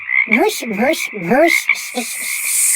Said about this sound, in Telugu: కప్ప పాముకు కప్ప కూత నేర్పించింది